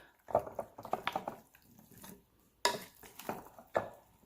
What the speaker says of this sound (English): Let's go ahead and give it a quick stir.